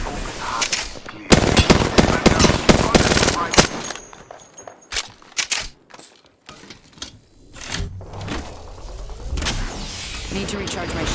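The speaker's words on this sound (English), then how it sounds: "They're firing on me." Rapid automatic gunfire and bursts of shots crackle in loud, dense volleys as enemies fire on the player in a shooter video game, with brief lulls and game effect sounds between the bursts.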